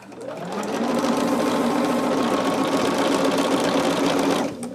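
A sewing machine stitches fabric in one continuous, fast, even mechanical whir lasting several seconds, close and clear with no talk, then it stops abruptly.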